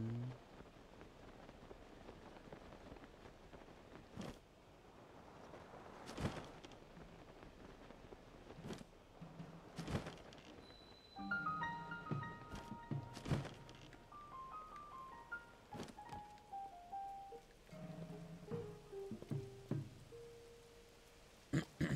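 Rain falling in the video game Zelda: Tears of the Kingdom, a soft steady patter with occasional sharp thunks and brief tonal game chimes partway through, no speech.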